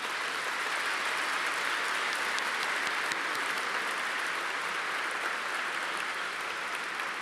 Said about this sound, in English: May we please have one final round of applause for all of our champions.